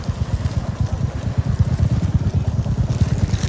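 Turbulent rushing water of a swollen mountain stream roars steadily close by, a dense low churning flow mixed with wind buffeting the microphone.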